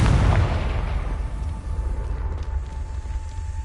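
Confringo blasting spell going off in a Harry Potter video game, a deep booming explosion at the start that fades into a rumbling tail with faint ringing.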